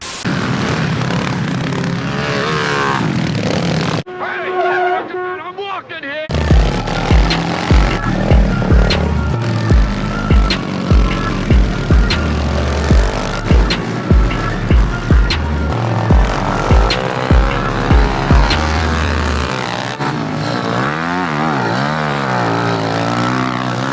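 Mini bikes ripping around a dirt jump contest at an outdoor dirt festival, loud buzzing small engines revving in rapid rhythmic bursts, close and continuous with pitch sweeping up and down.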